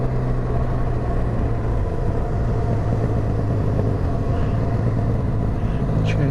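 A Benelli 502TRK adventure motorcycle with an aftermarket exhaust rumbles steadily at close range while riding, its engine drone continuous and loud throughout.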